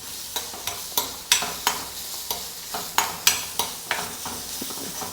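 Ground masala and two dried chillies frying in hot oil, with a soft sizzle under a regular series of sharp spoon scrapes and clinks against the pan, about two strokes a second, close and without any voices.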